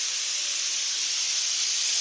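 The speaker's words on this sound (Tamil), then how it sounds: "குக்கர் வந்து விசில் அடிச்சிருச்சுங்க." A kitchen pressure cooker vents steam through its whistle with a steady, loud, broad hiss that holds without a break, with no voices over it.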